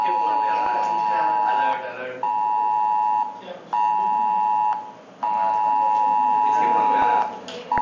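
Government emergency alert test tone sounding on a mobile phone in India, a loud steady electronic beep in long sustained bursts with short gaps, while people talk faintly in the background.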